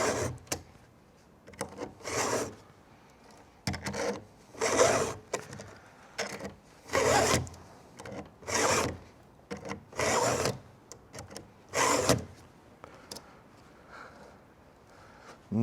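A chainsaw is sharpened with a dual sharpener, about ten rhythmic rasping file strokes, close and clear, separated by short pauses.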